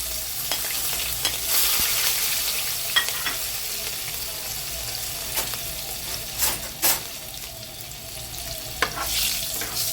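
A small piece of cinnamon, two green chillies and garlic sizzle steadily in a pan while a spoon stirs them, with scraping strokes and soft clinks standing out over the continuous frying hiss.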